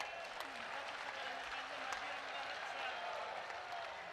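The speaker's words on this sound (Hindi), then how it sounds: "यदि आपको अनुकूल हो तो ठीक से ताली बजाइए।" Audience applause at a large religious gathering led by two spiritual leaders, steady broadband clapping filling the whole stretch with a faint voice underneath.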